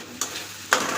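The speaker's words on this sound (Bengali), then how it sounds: "তারপরে এগুলো এখন ভাজা করছি, শুকনো ভাজা করব" Cauliflower florets and carrot pieces dry-frying in a pan, with two short bursts of stirring scrape and sizzle over a quiet, steady hiss.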